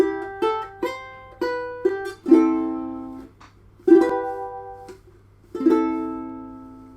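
Plucked ukulele phrase from a song's melody, played over chords: separate notes ringing out, then three strummed chords that decay, close and clear with no talking.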